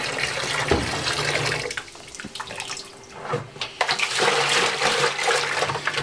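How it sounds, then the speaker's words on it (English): Hot water runs from a tap to rinse out a plastic home brew fermenter, a loud close splashing stream that briefly thins and drops in level midway before gushing strongly again. "So I like to give it one good rinse with hot water first."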